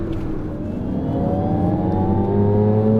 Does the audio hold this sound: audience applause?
no